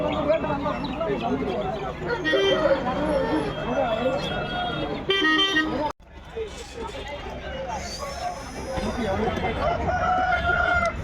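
A rooster crows among clucking fowl at a busy outdoor poultry market where roosters are sold, with people talking nearby throughout.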